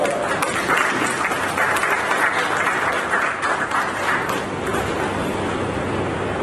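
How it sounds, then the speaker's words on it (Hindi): Dense, steady audience applause fills a hall at a Hindi book review event, a continuous loud wash of many hands clapping together with no break and no talking over it. "तालियां बजा सकते हैं क्योंकि तालियों से ही लेखकों का हौसला बढ़ता है।"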